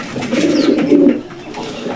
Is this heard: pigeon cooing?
yes